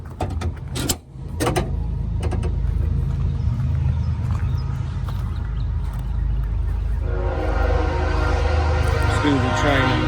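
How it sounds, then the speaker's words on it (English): A train rumbles past steadily in the background, with a horn sounding toward the end, while a few clicks and knocks come from closer by. "train in the back."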